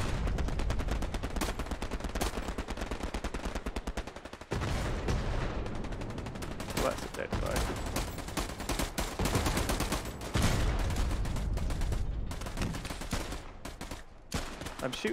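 Relentless gunfire in the WWII shooter Hell Let Loose amid a smoky battlefield, dense rapid bursts of rifle and machine-gun shots crackling continuously for the full stretch, loud and close with layered distant volleys.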